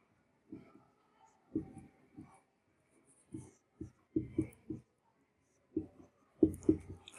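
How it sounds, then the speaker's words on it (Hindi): Marker strokes on a board as a chemical structure is drawn: short scratchy squeaks in irregular bursts, close and fairly quiet, separated by brief pauses, with no talking. "मैं अच्छे से स्ट्रक्चर को ड्रॉ करती हूँ ताकि समझ में आए एक चीज"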